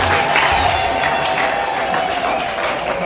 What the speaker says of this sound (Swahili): Tuwashangilie kwa makofi.